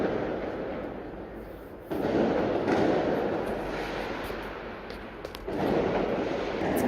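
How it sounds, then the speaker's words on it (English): Fireworks set off at midnight near an apartment in Tirana: a continuous rumbling roar of bursts and crackles heard from a distance, with the sound swelling louder at intervals, and no speech. "It's midnight on a Sunday, and these people are shooting off fireworks."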